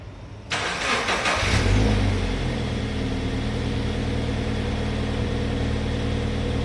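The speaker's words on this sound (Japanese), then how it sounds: "水平対向4気筒エンジンになります。" A Toyota 86 with a manual gearbox and a boxer four-cylinder engine starts with a sudden whirring crank, then catches into a brief rev before settling into a steady, close, even idle.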